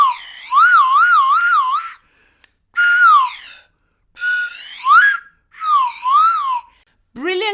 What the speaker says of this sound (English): I've done a slide whistle.